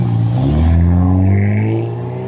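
A Hyundai car's engine and exhaust burble as it accelerates, a loud close rising engine note with steady revving harmonics that eases off near the end, no voices.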